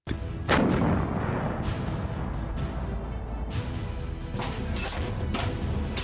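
A PZH-2000 self-propelled howitzer with an L52 cannon fires with a sharp, booming blast, followed by rolling rumble and several further loud reports.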